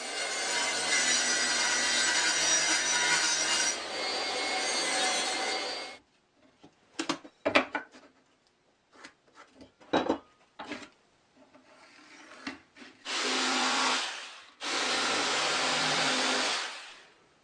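Plywood salvaged from the garbage being cut with a saw, a loud continuous rasping run that stops, then scattered short bumps and scrapes, then two more long, steady cutting passes near the end.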